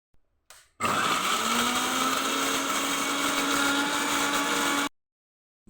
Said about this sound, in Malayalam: ഇഞ്ചി ഇതൊന്ന് മിക്സിയിലിട്ട് കറക്കിയെടുക്കുക.